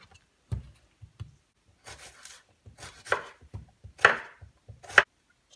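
A knife chops an onion on a board, giving about ten close, uneven thuds and crisp cuts with short quiet gaps between them.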